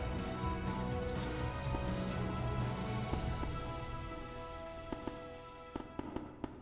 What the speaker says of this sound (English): The fireworks are going up.